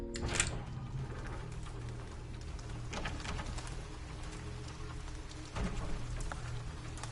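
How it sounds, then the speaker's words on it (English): Steady rain patter in the video game Silent Hill 2 Remake, with a low constant hum beneath it, a few brief brighter clicks standing out; no one talks. "Okay, the rain looks pretty cool."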